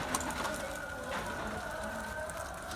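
Pigeons coo softly and continuously in the background, layered murmuring calls over a low steady ambient noise.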